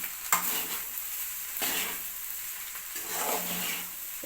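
Masala rice being mixed in a pot on a stove that has just been switched off: repeated slow scraping strokes of a spoon through the rice, with a metallic clink at the start, close and fairly quiet, with no voices.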